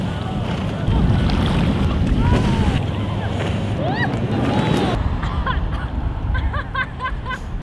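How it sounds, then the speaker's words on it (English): Strong wind roars and buffets the microphone while windsurfing on the water, a loud continuous rushing noise with gusts, as people talk and exclaim over it. "That's just the wind."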